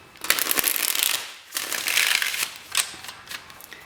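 Tarot cards are shuffled by hand in quick riffling bursts, a crisp papery flutter in three or four close passes separated by short pauses, with no voices.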